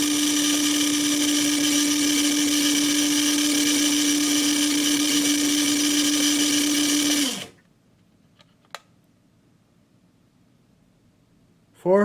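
An RC car's electric motor spins with a small 8-tooth pinion gear, giving a steady, close, high whine for about seven seconds before it cuts off into near silence, followed by a brief sound at the very end.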